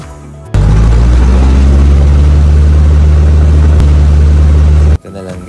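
Student pilot's single-engine training aircraft throttling up for takeoff, a loud sustained propeller-engine drone that kicks in abruptly and holds steady before cutting back, with talk at the very start and end.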